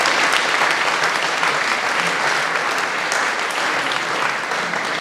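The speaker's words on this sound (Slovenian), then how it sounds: "aplavz" Concert audience at a traditional summer choir concert breaking into sustained, dense applause that stays loud and even throughout, with no talk over it.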